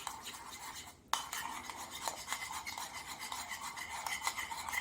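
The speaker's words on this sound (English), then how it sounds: "Just mix it into a smooth paste." Flour being stirred into a smooth paste with liquid in a dish for tempeh bourguignon, a steady close rasping scrape with a rhythmic rubbing texture after a brief pause, heard alone.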